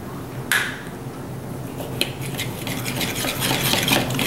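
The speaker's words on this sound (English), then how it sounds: "We'll just stir that around." A spoon stirs beer batter made of flour, cornstarch, baking powder and beer in a bowl, giving soft, scraping swirls with a few clinks against the side, close and moderately quiet.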